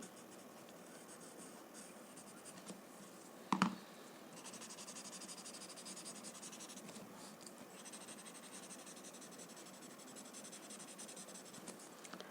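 A graphite pencil shades dark tone onto paper under a drawn curl, giving a soft, continuous scratching across the whole stretch, with one sharper tap partway through.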